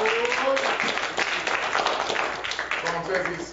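A church congregation claps in praise, a dense ongoing patter of hands that fills the room, with a voice and faint tonal sounds partly mixed in.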